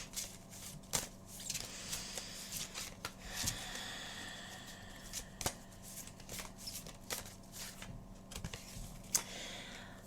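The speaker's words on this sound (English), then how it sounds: "let's just give a little shuffle here" Oversized, slippery oracle cards being shuffled by hand, a soft, close run of riffling and rubbing with sharp snaps and clicks scattered through about ten seconds, no talking.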